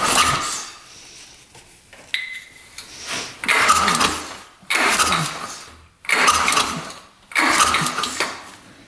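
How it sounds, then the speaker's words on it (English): Repeated pull-start attempts on a cheap used ATV engine with a no-spark fault: five loud rasping cord pulls in a row, each a burst of churning cranking that cuts off without catching, close by. "Try to pull start it, see if we get anything."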